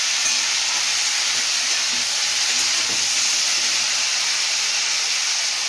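Cauliflower, potato and kohlrabi hit hot oil in a pan and give off a loud, even, continuous sizzling hiss that stays level from start to finish.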